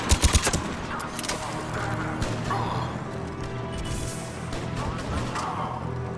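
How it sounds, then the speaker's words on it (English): Gunfire during a firefight in the sci-fi shooter Mass Effect 3, a few sharp close shots at the start, then a steady roar of combat noise with scattered impacts. "Just keep shooting."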